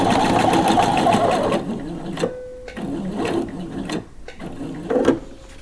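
A sewing machine straight-stitches lace underwear, running in one steady, close whir at first, then stopping and starting in a few short bursts with brief pauses between.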